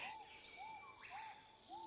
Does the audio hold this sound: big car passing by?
no